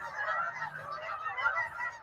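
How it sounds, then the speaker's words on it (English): A flock of waterfowl calls in a continuous, overlapping chorus of honks and quacks, steady and moderately loud, with no talking over it. "Quack, quack. Ducks."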